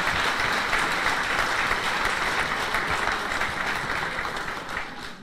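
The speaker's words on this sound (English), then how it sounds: "Please give her a round of applause." Audience applause for the ambassador at a Greek diaspora organizations' luncheon in New York, dense and steady, then slowly thinning and fading toward the end, with no voices over it.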